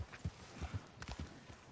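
Horse hooves clip-clop at a steady walking rhythm in Red Dead Redemption 2, close and fairly quiet, with no talk over them.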